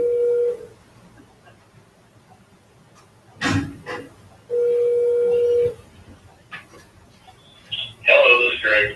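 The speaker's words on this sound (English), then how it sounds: "Okay, I'm gonna call him now." Touch-tone keypad beeps and steady tone bursts sound from a desk telephone as a call is placed, with brief handling noises and short tonal chirps between them.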